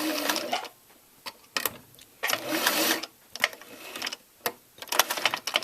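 A sewing machine stitches a quarter-inch seam on a neck tie in several bursts of rapid whirring, separated by short pauses and soft handling clicks, close and fairly loud with no talk.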